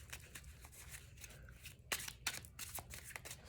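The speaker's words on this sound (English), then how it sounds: "shuffle that up a little without having to really shuffle." A deck of cards is shuffled and riffled in soft, quick bursts of flicking and slapping, with several sharper snaps in the middle, all quiet and close.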